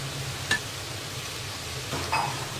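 Grated coconut being stirred into a carrot and beans poriyal in a pan, with a low sizzle and a couple of brief clinks of the spoon against the pan.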